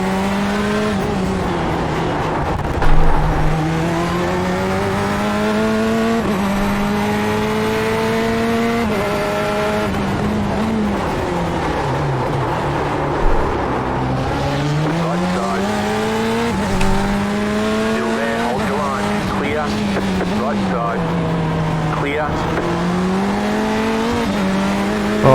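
Corvette C8.R race car at Long Beach in the iRacing simulator, a loud engine whining up and down through the gears for a sustained stretch, with a few brief squeals and bumps over the constant roar.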